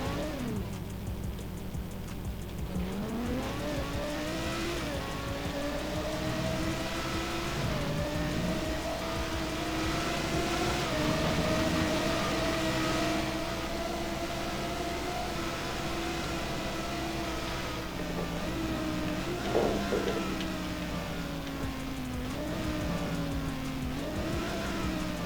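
A modded car engine in GTA 5 revs and drones continuously, its pitch rising and falling through gear changes with a loud, steady whine and brief throttle blips, with no talking over it.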